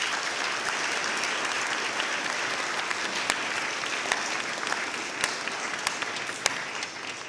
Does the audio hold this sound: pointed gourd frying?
no